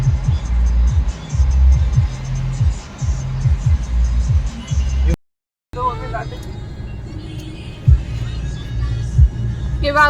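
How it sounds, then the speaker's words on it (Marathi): Road traffic in Wagholi, a steady low engine hum and throbbing rumble close by, briefly cut out midway, with people talking over it. "हे वाघोलीची ट्रॅफिक आहे का?"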